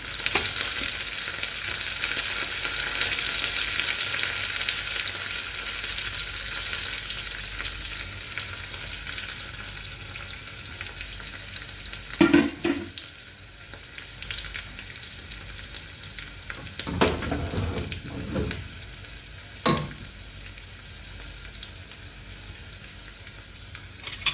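Dried red chillies, shallots and curry leaves fry in oil for a Kerala ginger curry, making a continuous hissing sizzle. A few clattering stirs and bursts of spatter come midway, then the frying settles into a softer crackle.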